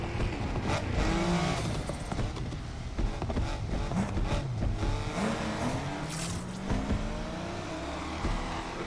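Dodge Hellcat Charger in the racing game NFS Unbound, engine revving and accelerating through repeated gear-change sweeps with occasional tire squeal and background music, no talking.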